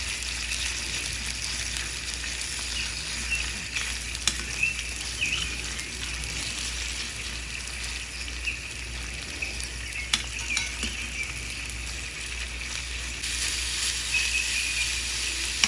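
Macaroni frying in a pan while being stirred, giving a steady, moderately loud hiss of sizzling with a few faint scrapes and no talking.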